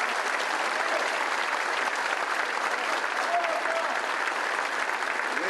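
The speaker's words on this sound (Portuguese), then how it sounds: "E aqui eu peço a vocês uma salva de palmas para a Assembleia" An audience at a political gathering bursts into sustained applause for the state Assembly of Paraná, an even, steady roar of clapping throughout.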